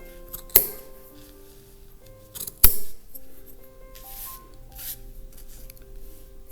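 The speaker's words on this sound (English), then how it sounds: "And here I see that some of these strands are too long, so I'm just going to cut it." Scissors snipping loose crochet yarn strands while trimming a mug rug, two crisp close cuts spaced a couple of seconds apart with faint rubbing of yarn between them.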